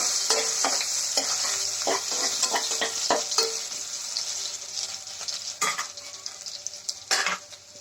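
Chopped onion hits hot soybean oil in a wok, sizzling steadily, with repeated clinks and scrapes of a stirring spoon against the metal.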